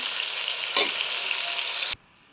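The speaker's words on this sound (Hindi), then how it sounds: "अब इसमें हम 3 मीडियम साइज़ के प्याज हमने काट लिए थे, इनको डाल देंगे गोल्डन ब्राउन होने तक।" Three medium-sized chopped onions frying in hot oil, a loud steady sizzle with a brief stirring scrape in the middle, cutting off abruptly near the end, no talk.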